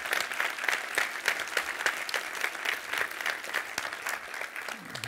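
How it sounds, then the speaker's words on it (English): Sustained, moderately distant applause from an audience at a 2012 green challenge award ceremony, an even patter of many hands that carries on without pause for about five seconds. "to give them another applause"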